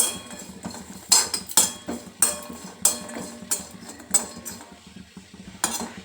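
A metal spoon clinks and scrapes against a pan in irregular sharp taps over a low, steady background as small coconut pieces are fried.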